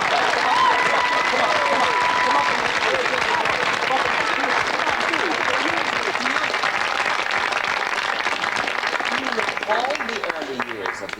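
A television studio audience warmly applauds the Chieftains' wives, a long, even roar of many hands clapping close and loud, with faint voices and a brief tone threaded underneath.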